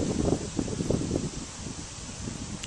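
Wind blows steadily outdoors with a rustling, buffeting rush that stays fairly loud throughout, with no voices.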